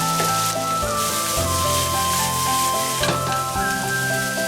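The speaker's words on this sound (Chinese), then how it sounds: "慢慢的炒透、炒香，炒出香味儿" Squeezed-dry pickled greens stir-fried in a pan, a steady loud sizzle with occasional scraping and stirring, no talk.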